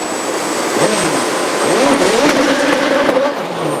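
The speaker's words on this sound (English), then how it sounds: "The only car in hill climbing to feature an onboard gas turbine, the sight and sound of Nick Mann's fabulous creation make it a real crowd pleaser." The Manic BT hillclimb car, fitted with an onboard gas turbine feeding its 1700cc Cosworth BDT engine, roars past in a loud continuous whine and rising engine note, with the turbine's high steady tone above it and crowd-like ambience around.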